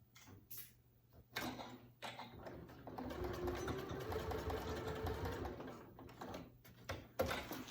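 A sewing machine bastes a seam in a range bag, running in a steady mechanical whir for several seconds between brief quiet pauses and small clicks, close and fairly soft.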